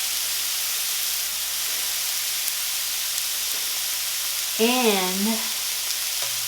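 Onion and bok choy sizzle and fry steadily in a pan, a loud continuous hiss close by, with a brief spoken word partway through.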